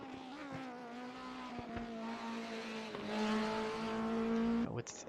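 DTM 1992 race car engine revving hard while practicing starts out of the pits at Autodrom Most in a racing sim, a loud sustained engine drone that climbs in pitch and then cuts off sharply.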